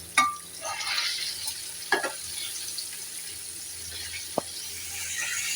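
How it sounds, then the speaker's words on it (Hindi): Zinger chicken for shawarma fries in oil with a soft, steady sizzle, broken by a few brief clicks and scrapes of stirring. "अभी इनको हम 5 मिनट तक ना और फ्राई करेंगे"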